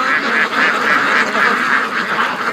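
A large flock of ducks on a lake quacks and chatters loudly and continuously, many calls overlapping close by in a steady pulsing din.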